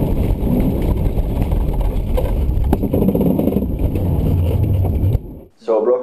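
A BMW E36 in rallycross drives hard through a corner, engine droning loudly under rough wind and gravel noise before cutting out abruptly near the end.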